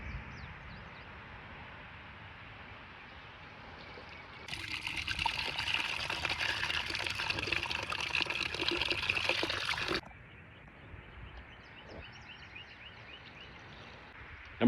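Water pours steadily from a gallon jug into a backpack sprayer tank, a loud continuous splashing gush lasting several seconds that begins and stops abruptly, with quieter trickling before and after.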